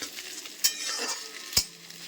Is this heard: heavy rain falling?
no